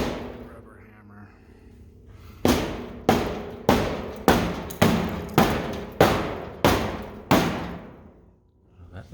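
A rubber hammer pounds a dent out of a rusty 1950s COE truck fender, about ten hard evenly spaced thuds, close and loud, with a brief pause before the last blows.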